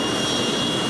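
Casey Jones's jet dragster roars on afterburner at Labatt Raceway, a loud, continuous, broadband jet blast with a harsh hiss that fills the whole moment at close range.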